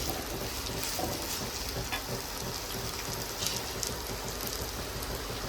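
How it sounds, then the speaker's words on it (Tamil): Sliced onions and curry leaves sautéing in a pan for a Tamil prawn kuzhambu, giving a steady, dense sizzle that holds evenly throughout with faint stirring clicks and no talking. "வெங்காயம் நல்லா பொன்னிறமாக சிவந்து வரணும். அந்த அளவுக்கு நல்லா வதக்கி விட்டுக்கலாம்."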